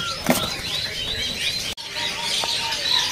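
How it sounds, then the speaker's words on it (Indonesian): An orange-headed thrush (anis macan) at a bird market sings a run of repeated bright chirping phrases, near and clear over quiet background hiss, with a brief dropout midway. "Di siap ini juga ada burung anis macan."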